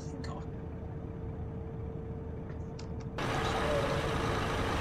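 A truck engine in Euro Truck Simulator 2 with the ProMods map runs as a steady low drone that swells louder partway through, with a few faint clicks early on.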